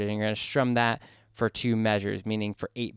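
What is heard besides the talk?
No everyday noise stands out behind the speech.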